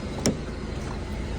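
A Honda Civic, which may idle roughly, rolls off at the start of a test drive, a steady engine drone inside the car, broken by one short click near the start.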